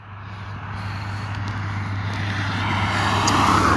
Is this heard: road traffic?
yes